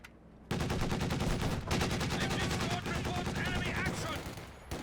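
Sustained machine gun fire rattles in a Company of Heroes 2 1v1 battle, dense overlapping bursts from several guns running almost continuously after a brief quiet start, loud and close.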